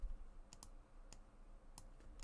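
Keys tapped on a computer keyboard while a word is typed out for a font design, a few quiet, separated clicks spread across a short, low-level stretch with no talking.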